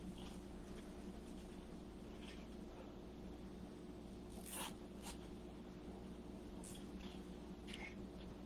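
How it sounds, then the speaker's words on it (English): A zip tie ratchets through its lock as it is fastened around a wreath frame, making several quick zipping bursts, close and distinct over a steady low hum. "attach this to the frame with a zip tie"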